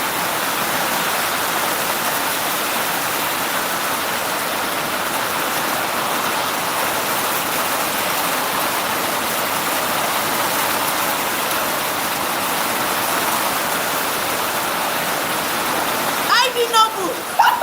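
Heavy rain pours down in a dense, constant hiss of broadband noise that runs loud and unbroken, with a brief voice near the end.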